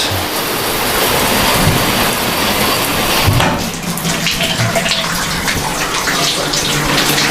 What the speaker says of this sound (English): Shower works.